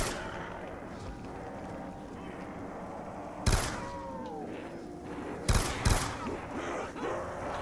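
Shots ring out in a zombies video game: a loud burst early on, then a quick pair of sharp bangs a couple of seconds later, each standing clearly over a busy game background.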